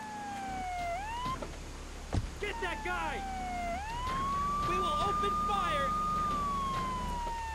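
Police sirens in the video game Grand Theft Auto III wail and sweep up and down, with several overlapping tones alongside game engine and traffic noise, moderately loud and fairly close.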